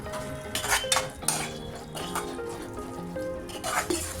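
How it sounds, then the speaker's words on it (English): Grated tomatoes going into a pan of cooking chhole masala: a wet clatter of utensil against pan with scraping and soft splashy pours, a few louder knocks among steady low cooking noise, no voices. "next up we'll add our grated tomatoes"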